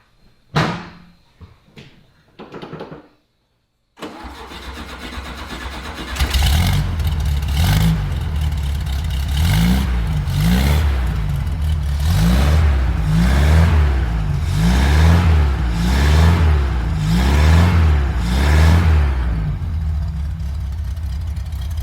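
A few clunks and a door slam, then a cold Volkswagen Beetle engine with an Italian performance kit starts and settles into a loud, close, lumpy idle with a rhythmic pulsing rumble that continues steadily.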